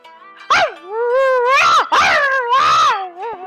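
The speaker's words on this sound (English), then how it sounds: "like a shrieking noise. Does it sound like a dog? We're gonna find somebody? Sounds like a strange dog." A shrieking, wailing cry like a strange dog heard during a Pathfinder 2E tabletop game session, a few drawn-out, pitch-bending howls and yelps close and loud, filling most of the moment with no other talk.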